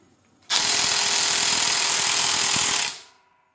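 An ONEVAN brushless 1800Nm 20V impact wrench runs in one continuous loud hammering burst of about two and a half seconds, close up, then winds down abruptly, with no voices.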